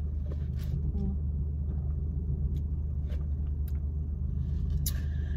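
Steady road traffic heard from inside a car, a low continuous engine and tyre rumble with faint passing swishes, no talking over it.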